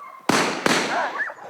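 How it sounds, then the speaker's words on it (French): Two sharp gunshots fired close together during a gunfire indifference test for military dogs, each a loud crack trailing into a reverberant decay, followed by faint vocal or whining sounds. "Ensuite, l'indifférence au coup de feu"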